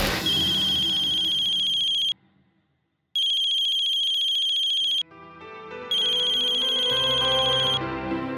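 A telephone ringtone rings in three loud, bright bursts separated by short pauses, with a quiet background tone and no one speaking.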